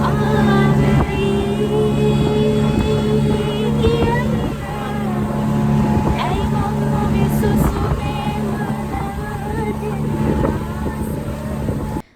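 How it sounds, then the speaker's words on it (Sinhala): A motorboat ride: the engine drones steadily and loudly throughout, with wind buffeting the microphone and no voices, until the sound cuts off abruptly at the very end. "පැය දෙකමාරක විතර බෝට් රයිඩ් එකකට පස්සේ අපි දැන් ආවා හිටපු තැනටම"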